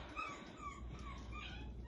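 Six-week-old puppies whimper and yip softly indoors, a short faint run of high thin whines with no talking.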